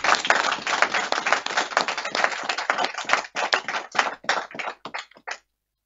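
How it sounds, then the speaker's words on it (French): A hall full of people at a political party congress clapping together, a dense patter of hand claps that gradually thins into a few scattered claps before stopping. "Que je demande qu'on applaudisse dans cette salle-là"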